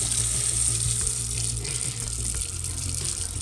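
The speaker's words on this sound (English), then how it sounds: "Turn on the water." Tap water runs steadily into the mop water tank of an ILIFE A11 robot vacuum-mop, a continuous close rushing and splashing stream with a low hum underneath, no talking.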